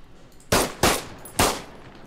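Three loud, close gunshots from ARMA 3 ring out in quick, uneven succession, each with a sharp crack and short decaying tail.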